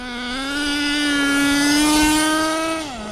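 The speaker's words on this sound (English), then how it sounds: "Motor-wise, it's running great." An HPI Savage nitro RC truck engine with an optional 3-speed transmission screams at high revs in a steady, loud buzzing whine that rises slightly, holds without shifting, then drops off as it eases.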